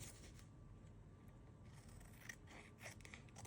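Scissors trimming paper for a journal pocket, a few quick close snipping cuts in the latter half over a quiet background, heard without speech.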